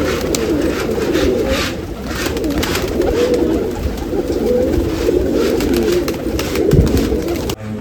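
At a pigeon festival in Nashik, a large flock of pigeons coos loudly and without break, a thick layered rumble of calls heard up close with no talk.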